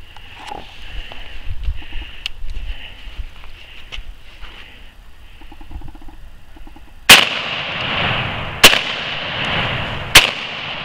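A Browning Auto-5 12 gauge shotgun fitted with a Cutts compensator fires three loud, sharp outdoor shots spaced a second or two apart, following quieter background noise.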